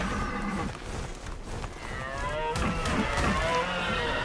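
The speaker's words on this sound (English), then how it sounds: "And the sound is like a cow" A creature in the video game ARK gives a low cow-like moo, a strong drawn-out lowing call that rises into wavering tones over a busy game background, with no talking.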